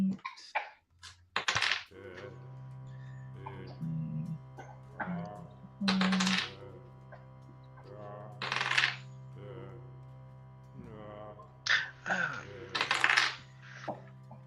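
Dice clatter and tumble across a table during a Castle Greyhawk tabletop role-playing session, with several short rattling bursts spread through the clip and people talking and laughing between the rolls.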